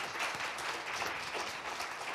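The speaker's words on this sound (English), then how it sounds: "let's give her a round of applause" Town hall audience applauding a speaker at a county government event, steady dense clapping heard faintly from a distance, with no distinct voices on top.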